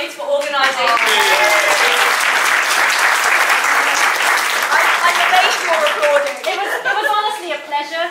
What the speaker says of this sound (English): Also, round of applause to the bridesmaids for organising.